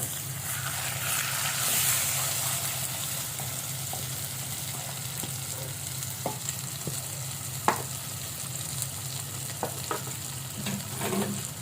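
Boiled, mashed taro leaves stirred in a hot pan, a steady frying sizzle with scattered scraping clicks of the spatula, close and continuous with no talk.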